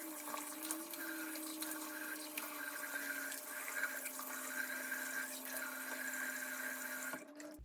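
Running water from a tap splashes steadily as a face is rinsed, a continuous close hissing flow with small splashy fluctuations, ending with a brief knock as the water stops; no one speaks.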